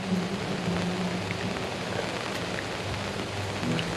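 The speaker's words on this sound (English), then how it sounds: "3:45 and it's raining." Steady rain falls at a state park during a summer field day, a dense continuous hiss with faint low rumbling that may be distant thunder, no voices.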